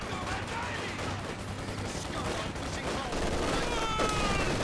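Machine gun fire from LMG Grenadiers rattles through a Company of Heroes 2 battle, sustained bursts amid dense battlefield noise.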